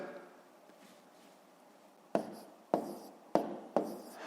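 A pen writes out a column multiplication by hand: soft faint scratching at first, then four sharp, distinct strokes or taps spaced about half a second apart, close and quiet.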